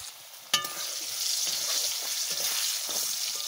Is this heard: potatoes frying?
yes